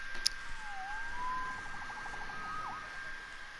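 A police siren wails in the Spider-Man video game, rising and falling through a few sweeping cycles at moderate volume over a steady background tone and ambient game sound.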